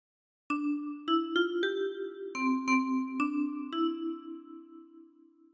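A 10-key kalimba plucks a phrase of Hark the Herald Angels Sing, roughly nine bell-like notes at a moderate, even pace, each tine ringing on with a soft shimmering sustain, quiet and alone without voices.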